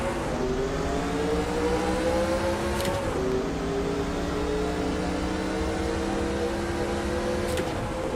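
A NASCAR race car engine in a video game, at Darlington, drones steadily at high revs, its pitch sliding slightly with two brief gear-shift dips; loud and continuous with no talking.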